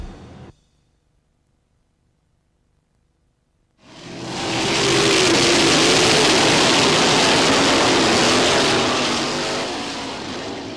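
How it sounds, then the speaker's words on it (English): Sprint car racing engines roar in after a few seconds of near silence, a loud, sustained broadband howl that holds steady and fades slightly at the end, with no talking. "The greatest race car in the world is a sprint car."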